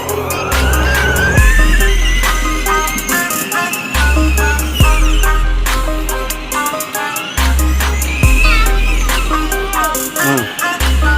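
A car engine revs loudly and close as it accelerates, with the pitch climbing in repeated steps and dropping sharply at each gear change, roughly every three to four seconds.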